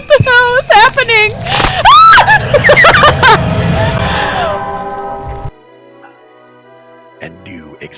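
A woman's loud, shrill screams rise and fall in sweeping pitch bends amid chaotic game noise in a Phasmophobia ghost-hunting session, then cut off abruptly, leaving a quiet tail with faint sounds.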